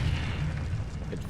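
Confringo fire spell explosion in the Hogwarts Legacy video game: a dense, roaring boom that fills the whole moment and stays loud and sustained without a clear decay.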